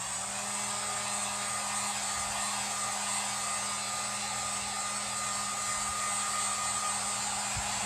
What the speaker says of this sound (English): So I'm just going to dry this with my heat gun.